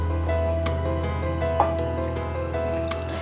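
Water splashes and trickles into a pan of tangy sardine curry, with small drips and a brief gurgle over a steady low kitchen hum.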